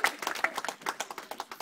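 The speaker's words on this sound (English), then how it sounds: "So give yourselves a big round of applause." Wedding guests give a round of applause during a best man's speech, a fairly faint patter of many hands clapping in quick irregular rhythm for under two seconds.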